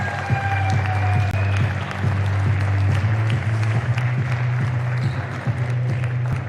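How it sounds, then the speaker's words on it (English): Crowd applause for squash player Roshan Bharos at a squash league match in a stadium, lively clapping over a steady low hum, with occasional sharper claps standing out. "Round of applause to Roshan Bharos!"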